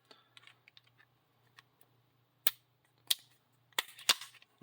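Metal parts of a Tisas 1911 DS Duty pistol fitted with a compensator clicking and clacking as the barrel is lined up during reassembly, scattered faint taps building to several sharp, close metallic snaps.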